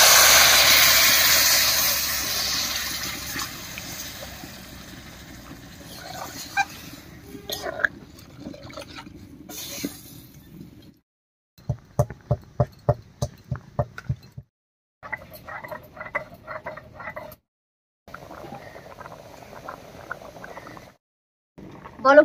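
A pot of curry with water added for the gravy, later joined by fried soybeans, simmers and bubbles on the stove, with soft gurgling and ticking pops coming in short bursts, moderately close and unaccompanied by talk.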